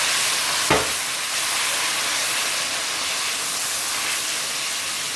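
Sofrito, about four tablespoons, cooking off in a pot for yellow rice with Vienna sausages: a loud steady hiss and sizzle with one sharp knock of a spoon near the start, close by and without talk.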